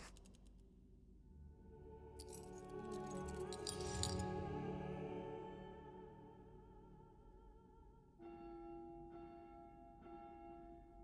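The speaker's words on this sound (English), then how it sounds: "I heard ringing of a large bell. It must be the evening Angelus." A large church bell rings the evening Angelus in the puzzle game The House of Da Vinci III. The deep, faint tolling swells and fades, followed by softer, clearer chime tones.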